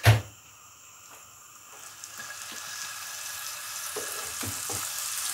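Lean ground beef steaks land in a hot oiled pan with a sharp initial hit, followed by a steady, soft sizzle that builds slightly and crackles quietly with a few faint clinks.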